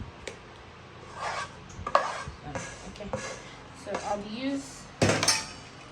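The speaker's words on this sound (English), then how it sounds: "spatula. See, spread it out evenly" Spatula scraping and spreading Coca-Cola cake batter across a baking tray at home, soft rubbing strokes and a few light knocks against the tray, close and fairly quiet, with a voice speaking over it.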